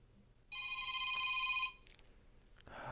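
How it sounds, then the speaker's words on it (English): A telephone rings in one sustained electronic burst lasting about a second, fairly loud and close, then stops, with a faint click and some rustling following in an otherwise quiet room. "The phone won't stop ringing."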